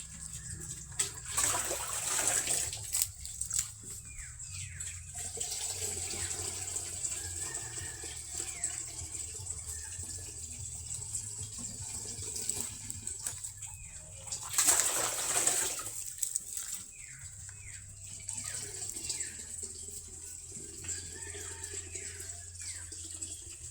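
Tap water runs through a filter in bursts, hissing and splashing in two louder surges with quieter trickling between, set against a steady high whine and soft background clatter.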